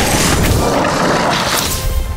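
A fiery Incendio spell cast in a Harry Potter video game, a loud sustained whooshing blast with crashing, crackling texture throughout, close and dense.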